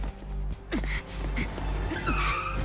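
Car skidding in an anime episode, a sharp tire squeal over a steady low engine rumble with brief gasping voices, loud and close for under three seconds.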